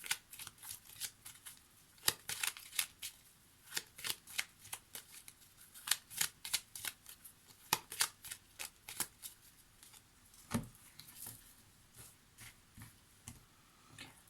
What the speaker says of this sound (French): On va mélanger un petit peu les cartes.